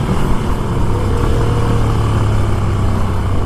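Motorcycle engines roar past on the Stelvio Pass mountain road, a loud, continuous drone from nearby that holds steady without breaks.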